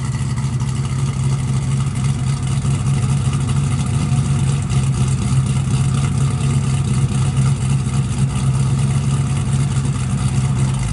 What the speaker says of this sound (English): Sounds real good out the exhaust. 3-inch exhaust. It's got turbo mufflers instead of flows.